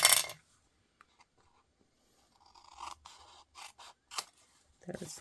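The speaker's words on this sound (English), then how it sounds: "fussy cut it right off. Ooh. Only have to trim the edges" Paper scissors snip along card edges while fussy cutting a stamped image, giving a loud first cut followed by a pause, then several softer scattered snips and rustles at close range.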